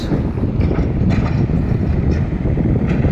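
A green tram rolls past on a Lviv street, a steady loud rumble of wheels on rails with clicks and wind, heard alone without talk.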